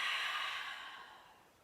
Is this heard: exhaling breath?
yes